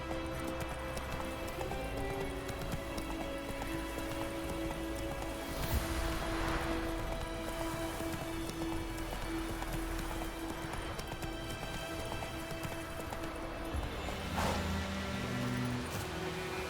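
Geralt's horse Roach gallops in The Witcher 3, with a steady rapid clip-clop of hooves running under continuous game music and ambience, with no pauses throughout.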